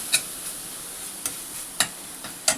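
Ingredients for pea kachori being dry-roasted and stirred in a pan: four or five sharp scraping ticks of a spoon against the pan at irregular intervals over faint background hiss, close and alone.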